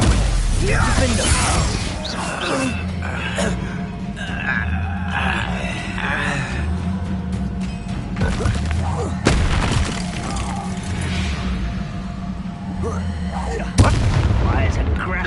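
Spell explosions in Hogwarts Legacy produce a dense stream of booming blasts and crashing impacts over busy game sound, with one sharp thump near the end, while a voice talks throughout.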